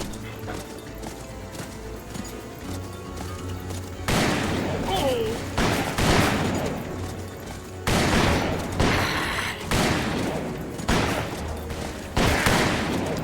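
Gunshots ring out in the Western video game Call of Juarez during a stagecoach chase across the prairie, several loud sharp blasts spaced a couple of seconds apart over galloping hooves, with someone speaking briefly.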